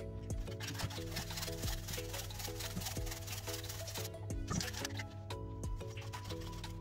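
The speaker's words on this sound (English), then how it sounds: "This is a black coconut, so I'm going to grate it." A black coconut is rubbed against a grater in quick repeated scraping strokes, soft and close, with faint background noise under the rasping rhythm.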